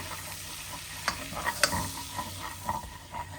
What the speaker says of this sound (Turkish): Eriyen tereyağımın üzerine bir yemek kaşığı un ilave ediyorum ve unun kokusu çıkana kadar güzelce kavuruyorum ikisini.